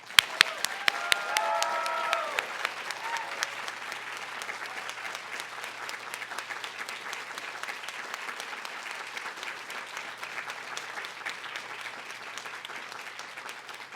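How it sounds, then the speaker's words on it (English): Sustained applause from the audience at the 2026 Allen School student and faculty awards celebration rolls on steadily for the full stretch, with a few sharp claps and cheers at the start, then a uniform, even patter of many hands. "Let's have a final round of applause for all our winners today."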